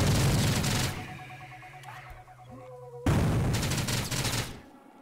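Rapid gunfire in the PC shooter STRAFE comes in two loud bursts of fast repeated shots, split by a quieter stretch of game sounds, with no talk.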